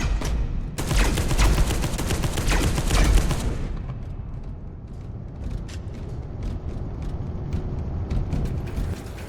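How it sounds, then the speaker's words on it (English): Dense plasma cannon blasts and rapid gunfire from Space Hulk Deathwing, loud and continuous, with a heavy volley in the first few seconds that thins into scattered shots and rumbling battle noise. "Yeah, don't mind that we shot it with a plasma cannon."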